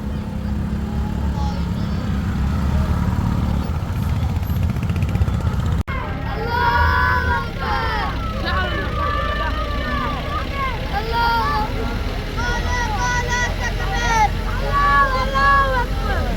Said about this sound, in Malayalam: പ്രത്യേക വാഹന പ്രചരണ ബൈക്ക് റാലിയാണ് ഈ പ്രദേശത്തിലൂടെ കടന്നു വരുന്നത്